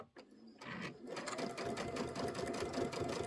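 A sewing machine stitching fabric with its auto lift engaged, running in a steady, close, rapid mechanical chatter after a brief start-up. It keeps a quick, even rhythm throughout.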